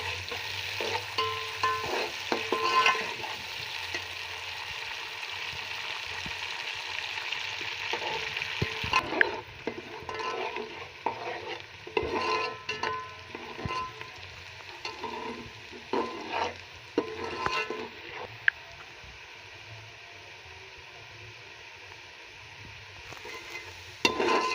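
Chopped onion sizzling and frying in hot oil in a pan for a chicken and green bean dish, a steady broadband crackle with intermittent stirring clatter, close and fairly loud, no talk.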